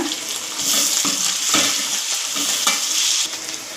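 Coriander stems fry in a pan for a vegetable rice-grits upma, a loud, close sizzle broken by repeated scraping stirs about every half second, with no talking.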